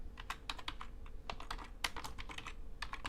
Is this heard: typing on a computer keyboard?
yes